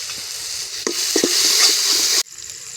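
Curry leaves, garlic and ginger fry in a pan, a steady close sizzle with a few sharp crackles, cutting off abruptly near the end to a fainter hiss.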